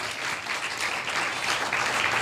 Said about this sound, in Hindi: ताली कमजोर बज रही है